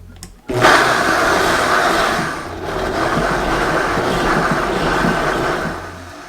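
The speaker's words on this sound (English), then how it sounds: "make sure that all the pieces get down to the bottom of the blender so that they can start blending evenly" Countertop blender whirring loudly as it blends celery for juice, starting abruptly and running steadily with a slight dip in pitch and load partway through.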